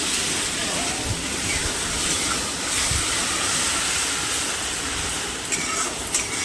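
Onion, ginger, green chilli and garlic paste sizzling in hot oil in a pan, a steady broadband hiss that stays fairly loud and even throughout, with no talking.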